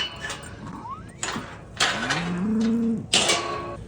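Cows on a wet farm let out several loud, close moos in a row, the calls rising and sliding, with quieter farm ambience between them and no talking.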